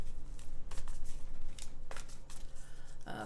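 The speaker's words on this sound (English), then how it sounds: "This deck's so hard to shuffle." A large tarot deck is shuffled by hand in short bursts of riffling and sliding card noise, close and fairly clear, with a brief handling rustle at the end and no speech.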